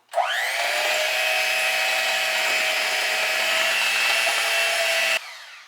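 An electric mixer runs on its slow setting, beating apple cake batter in a steady whirring drone that spins up quickly, holds for about five seconds and then cuts off.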